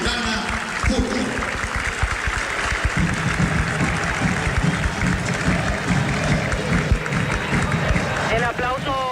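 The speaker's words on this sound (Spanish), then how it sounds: "El aplauso del público." Stadium crowd applauding during a post-match awards ceremony in the Paraguayan football league, Guarani against Tacuary, a continuous roar of clapping under someone commentator talking over it.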